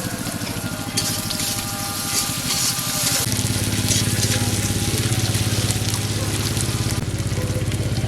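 Cumin seeds, bay leaf and onion sizzle in hot oil in a home kitchen pan, a steady crackling hiss that grows denser and louder partway through.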